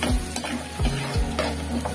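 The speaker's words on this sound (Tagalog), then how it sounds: "Lutuin lang natin ang luya sa butter." Ginger sizzles in melted butter in a pan, a steady crackling fry with a few soft scraping stirs and taps, close and fairly loud with no talking.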